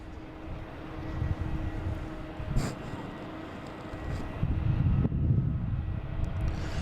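A British Airways airliner taxis at Boston Logan airport, a sustained low jet rumble heard from a distance with a swelling surge toward the end and a brief clatter midway.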